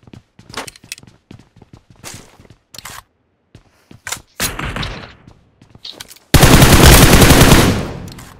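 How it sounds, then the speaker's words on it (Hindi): Gunfire from a player perched on a tower in the mobile shooter BGMI: scattered single shots and short bursts, then a loud, sustained automatic volley near the end, with no talking. "टावर के ऊपर एक बंदा होता है जो कि गंदे तरीके से फायर करता है"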